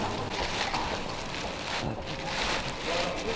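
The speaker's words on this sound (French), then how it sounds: "On égoutte un petit peu les dernières gouttes de pluie." Water drips and patters off a tarp in light, steady rain, with some breezy wind noise over the microphone throughout.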